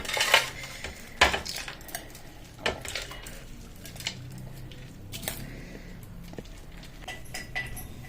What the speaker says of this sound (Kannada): ಒಂದು ಪ್ಲೇಟ್ಗಿಟ್ಟು ಸರ್ವ್ ಮಾಡ್ಕೊಳ್ತೀನಿ